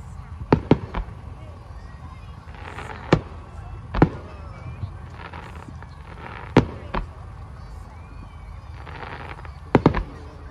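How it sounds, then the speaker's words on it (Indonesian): Fireworks pop and crack in scattered bursts, some in quick pairs, heard at a distance beneath a constant murmur of crowd voices. "Cuman lihat kembang api doang."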